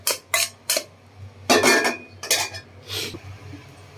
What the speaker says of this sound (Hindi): देखो अभी कढ़ाई धो के लिया